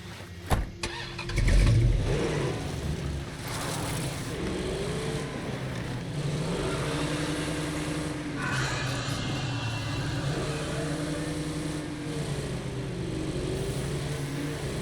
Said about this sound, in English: Let's take the car to the outpost.